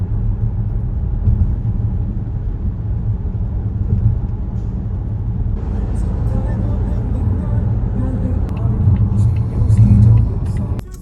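Car traffic crawling in a jam on a city street, a steady loud low rumble of engines and tyres heard from inside a vehicle, with a slight swell near the end.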